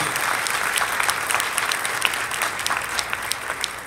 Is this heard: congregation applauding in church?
yes